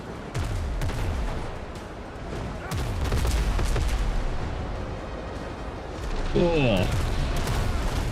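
Ship cannons in the Windrose naval game boom in a ragged volley of heavy blasts and splashes, loud and close, with a voice speaking over the battle.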